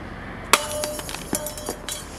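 Glass cracks sharply once, followed by several lighter clinks and tinkles of scattered shards at irregular intervals, close and fairly quiet.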